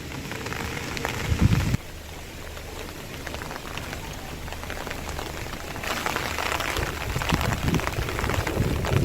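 Steady heavy rain with gusty wind hisses throughout, dense drops drumming on surfaces, briefly quieter in the middle before the downpour swells again.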